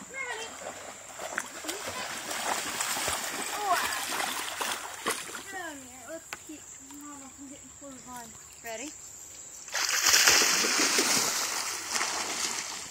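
Hunter, a dog, paddles and splashes through water with intermittent sloshing, while someone talks over it and higher whining or bird-like chirps come and go; a louder burst of splashing near the end.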